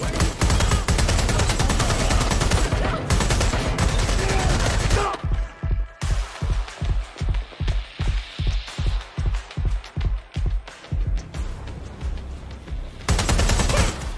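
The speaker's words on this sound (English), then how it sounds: "I'm getting shot at here!" Gunfire in the video game Watch Dogs: Legion, loud sustained automatic bursts that break into a rapid pulsing string of shots in the middle, then another heavy continuous volley at the end.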